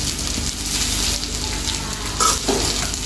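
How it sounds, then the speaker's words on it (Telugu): Potato rice frying in a pan, a loud continuous crackling sizzle with a couple of brief stirring knocks near the end. "ఇప్పుడు మనం దీన్ని మంచిగా ఫ్రై చేసుకుందామండి"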